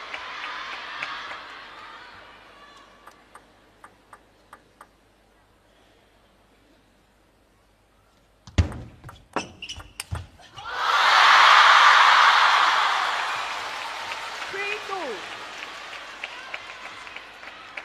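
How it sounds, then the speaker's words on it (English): Table tennis crowd in Chongqing at a men's singles semifinal, quiet murmurs giving way to a few sharp ball and paddle knocks, then a loud surge of applause and crowd noise swelling and fading slowly. "the noise of the crowd just drowning everything out"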